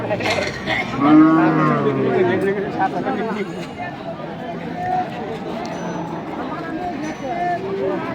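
Cattle low at a crowded, hot cattle market in Bhengula, with one clear drawn-out moo early on and more lowing through a busy crowd backdrop with people talking.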